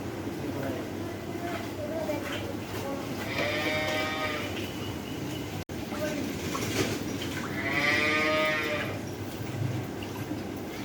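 Cattle on a Qurbani cattle farm let out two long moos, one around the middle and a louder one later, close by over steady barn noise.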